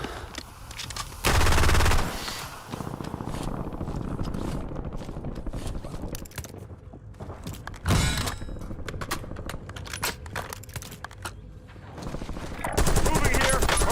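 Automatic gunfire in Call of Duty Warzone, with dense bursts of rapid shots and loud salvos near the start, middle and end, plus game voice callouts.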